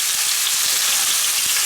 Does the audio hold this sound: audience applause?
no